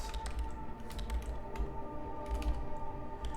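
Computer keyboard typing during a typing video game, a steady stream of soft clicking keystrokes with a few louder taps, close and alone with no voice.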